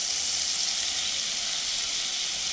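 Onion paste sizzles steadily in hot oil for a Bengali katla kalia fish curry, a dense, even frying hiss that stays constant and fairly loud throughout with no voices.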